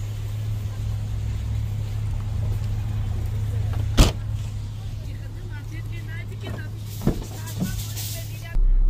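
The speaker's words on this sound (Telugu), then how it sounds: "బండి ఏం ట్రబుల్ ఇవ్వకుండానే స్టార్ట్ అయింది ఇప్పుడు" A car with a previously dead battery running after starting, heard as a steady low engine hum with a few sharp clicks or knocks, a person speaking over it.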